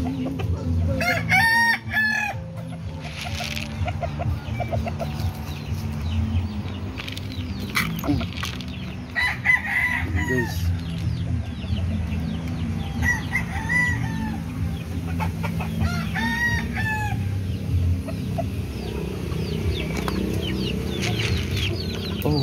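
Chickens cluck steadily at a chicken farm while a rooster crows several times, the calls ringing out over a constant barnyard din with faint voices now and then.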